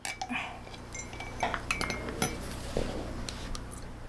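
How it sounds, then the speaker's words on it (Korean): Cups and dishes clink and tap in a quiet home kitchen as a mother sets out two cups, a series of light, close, sharp knocks spaced irregularly with no talking. "2개의 컵을 준비한 엄마."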